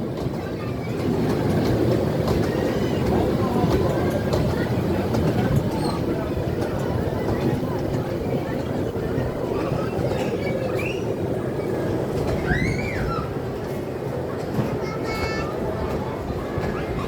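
Small amusement park ride train rolling along at an adventure park, a steady rumbling clatter throughout with children's voices and chatter over it.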